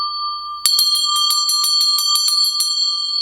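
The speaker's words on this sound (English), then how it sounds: "Bells, call in the angels." Small ringing bells sound in a quick, steady run of about a dozen bright, clear strikes, close and loud, each note sustaining over the next with no talk.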